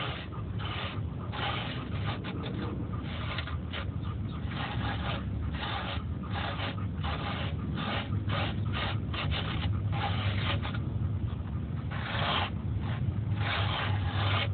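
Steady dry rasping strokes, continuous and fairly close, with a soft gritty rubbing texture and no talking; foam being sanded by hand to enlarge dimples on a foam die.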